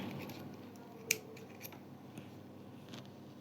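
Crochet thread is cut with scissors in one crisp snip, followed by a few faint clicks and handling sounds in a quiet room.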